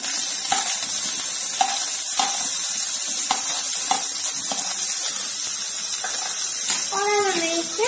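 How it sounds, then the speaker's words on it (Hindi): Onion, cumin seeds, green chili and ginger frying in hot oil, a steady loud sizzle with repeated stirring scrapes and clinks, and a brief voice near the end. "अब हमारी प्याजों को गोल्डन होने तक भूनेंगे।"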